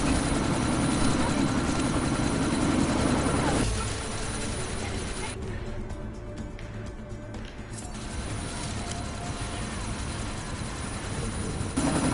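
A helicopter hums steadily in the Deus Ex video game, an engine drone that dips slightly partway through and continues under someone talking.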